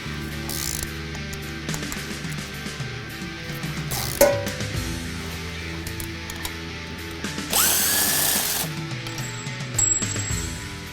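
A ratchet with a socket extension works bolts loose under a 2011 Ford F-150 3.5L EcoBoost during a downpipe swap, giving close mechanical clicks and clunks with a brief burst of tool whirring near the end.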